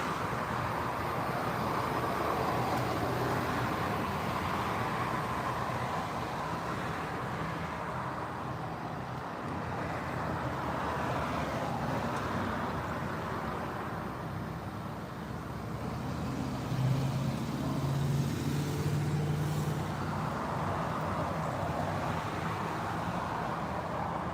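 Steady road traffic flows past a roadside spot outdoors, a continuous broadband rumble of passing cars and trucks with swells as heavier vehicles go by and a low engine drone rising near the end.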